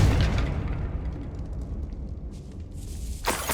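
A Confringo blasting spell goes off in Hogwarts Legacy, a loud booming burst up front that rumbles and decays over a few seconds, with a second sharp crackle near the end.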